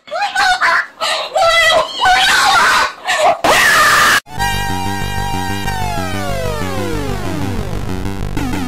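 Loud, shrill screaming bursts from a bird, repeated in quick uneven calls over the first four seconds, followed by a sustained bright tonal chord that slowly sweeps downward.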